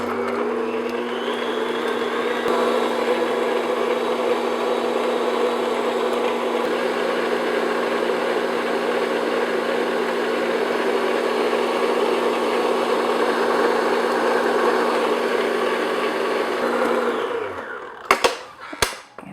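An electric mixer beats eggs into fruit cake batter, a loud steady motor whir running almost unbroken for about seventeen seconds, then cutting off with a few clinks of the bowl.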